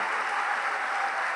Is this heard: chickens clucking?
no